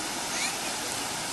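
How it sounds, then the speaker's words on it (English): A waterfall in Munnar, Kerala gives off a steady, dense rushing roar of falling water, loud and close, with no breaks for the whole moment. "Show me this waterfall."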